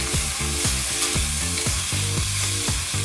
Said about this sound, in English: Just want to give it a few minutes to kind of saute up and become a little translucent.